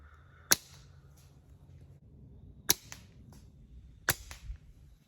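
Three sharp, loud cracks from slingshot shots striking a metal spinner target land about two seconds apart, each followed by faint lighter ticks and clatter against a quiet outdoor background.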